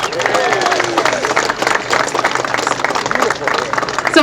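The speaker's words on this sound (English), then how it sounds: "Can we get a round of applause?" A crowd applauds at the Luna Park opening day ceremony at Coney Island, a dense, steady patter of many hands clapping mixed with cheers and chatter, lasting a few seconds.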